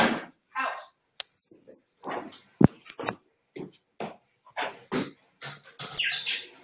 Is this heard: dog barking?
yes